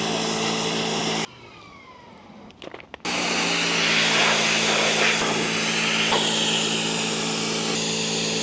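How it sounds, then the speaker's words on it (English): A pressure washer blasts dirt off car floor mats from an old BMW E30, a loud continuous hissing spray with a motor drone, briefly cutting out to near silence before roaring back on steadily. "when I pressure wash them, that stuff comes off as well"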